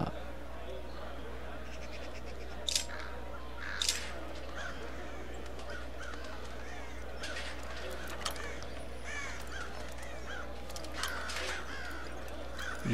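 Crows caw in a Thief video game scene, several sharp raspy calls scattered irregularly over a quiet ambient background, some closer and louder than others.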